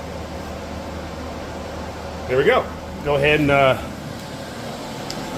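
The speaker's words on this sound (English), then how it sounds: "sorry about the fan." An electric fan runs in a garage during truck work on a 2005 Dodge Ram 1500, a steady, moderate whooshing hum throughout, with someone speaking briefly over it.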